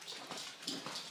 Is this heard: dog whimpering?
yes